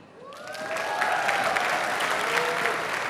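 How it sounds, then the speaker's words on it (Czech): Audience applause at the Miss Czech Republic 2022 final, swelling quickly into sustained loud clapping from a large indoor crowd, with faint cheers or whistles over it. "Je to jasné z těch úvodních potlesků i z celé té nádherné stage"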